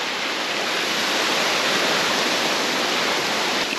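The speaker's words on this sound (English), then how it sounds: "God, I love the sound of a waterfall." An Alpine waterfall roars in a dense, steady rush of white water, loud and unbroken throughout with no voices.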